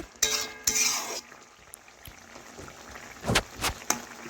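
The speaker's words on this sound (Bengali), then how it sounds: "এই দেখুন, নাড়াচাড়া করে" Boiled vegetables in a pan for a vegetarian bitter gourd curry get stirred, heard as a few sharp scrapes and clinks of a utensil against the pan, with a faint sizzle between strokes.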